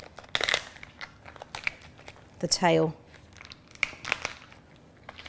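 A knife splits a lobster shell in half, giving sharp crunching and cracking bursts with one longer grinding crack in the middle, while a person talks.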